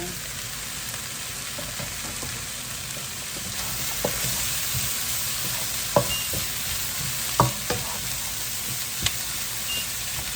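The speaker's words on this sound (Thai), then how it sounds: "ผัดหอมพาปริก้ารวมกันแล้ว" Steady sizzling of onion and paprika stir-frying in a pan, with occasional scrapes and knocks of a utensil stirring, close by and continuous.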